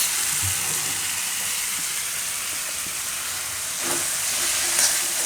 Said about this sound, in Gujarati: આ રીતે થોડો થોડો નાખતું જવાનું, મિક્સ કરતું જવાનું.